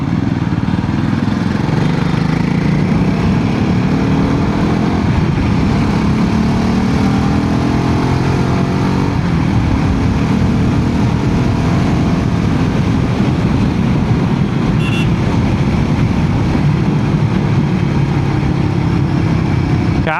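A 2025 Royal Enfield Himalayan 450 fitted with a Fuel X Pro Plus dual O2 sensor module is ridden, and its engine drones steadily and loudly at close range for the whole stretch, with a rush of wind and road noise and no talk.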